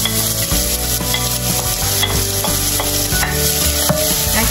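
Onion frying in a pan for an American-style spaghetti sauce, a loud steady sizzle with repeated scraping strokes of a spoon stirring through it, close and continuous with no voices.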